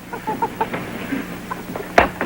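A hen named Hildegard clucks in short, close bursts, a few soft repeated clucks building to one louder squawk near the end, with no talking over it.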